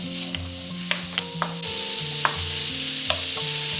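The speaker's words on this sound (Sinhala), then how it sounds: "දැන් විනාඩියක් කියලා මේ බේකන් වලින් ආපු තෙල් වලින් පොඩ්ඩක් සෝට කරගන්න ඕනේ." Something sautéing in rendered bacon fat for bacon and egg fried rice gives a steady close sizzle, with a few sharp clinks of a utensil against the pan scattered through and no voices.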